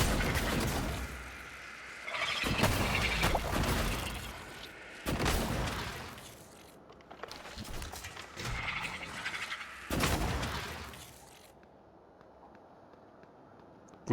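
Glue cannon fired repeatedly in the video game Prey (2017), heard as a series of loud, broad spraying bursts roughly every two to three seconds, with fainter game ambience between shots.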